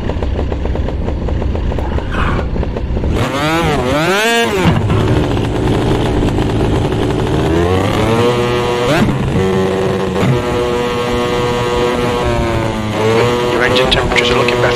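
A 250cc superkart engine screams around the Brazil circuit in Automobilista 2, loud and close, its buzzing whine sweeping down and back up through sharp gear changes and throttle lifts before settling into a sustained high-revving drone.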